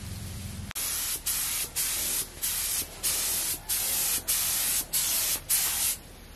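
Spray paint hisses in short repeated bursts onto Yamaha R6 motorcycle parts, about nine even blasts separated by brief pauses, close and loud with no talk.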